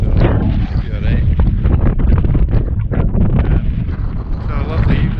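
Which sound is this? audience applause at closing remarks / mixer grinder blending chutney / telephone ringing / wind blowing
wind blowing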